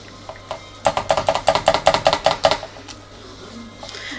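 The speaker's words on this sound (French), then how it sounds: "Je vais mélanger." Salmon and spinach cake batter is mixed in a bowl, producing a quick run of about fifteen sharp, evenly spaced tapping knocks from a utensil against the bowl, close and fairly loud, then a quieter stretch.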